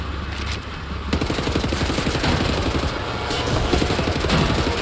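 Sustained enemy gunfire in the shooter game Wolfenstein The New Order, a dense, continuous clatter of rapid automatic shots with heavy low rumble, loud and close throughout with no voices.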